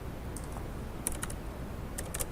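Keys tap on a computer keyboard in a quiet room, a few soft scattered keystrokes and short bursts of typing over faint background hiss.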